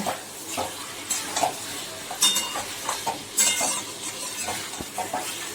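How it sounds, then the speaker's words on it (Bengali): Marinated chicken, partly cooked in sour yogurt, is stirred with spices in a pan: a soft steady sizzle broken by repeated scraping and clinks of a spatula against the metal, close and with no voices. "এবার মশলার সাথে চিকেনটাকে ভালো করে আমি 5 মিনিট মতো কষিয়ে নেব"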